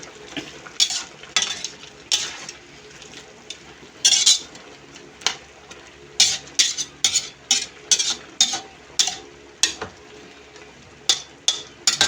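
Tofu cubes go into a simmering pan of ginataang gulay, Filipino vegetables in coconut milk with shrimp, as a metal utensil clanks and scrapes against the pan in steady bursts over a soft bubbling sizzle.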